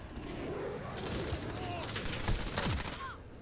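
Bursts of rapid gunfire in Modern Warfare, including an MP5, crackle in the middle distance over a steady background hum, with a few sharper, closer shots near the end.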